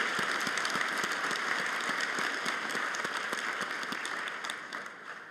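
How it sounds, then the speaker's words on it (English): A large audience at a winter convocation ceremony applauds in a steady, dense wash of clapping that carries on for several seconds and slowly fades at the end. "a round of applause for all the folks that are with you here today"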